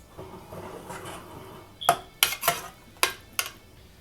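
Mutton with cumin, turmeric and water is stirred in a pressure cooker, a few soft rubs followed by five sharp metallic clanks of a spoon against the pot.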